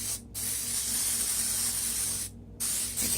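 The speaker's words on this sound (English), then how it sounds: "I'm just gonna spray the muffin tin with this coconut oil just so they don't stick." Coconut oil sprays onto a muffin tin in two long hissing bursts, each broken by a brief pause, close by and fairly quiet.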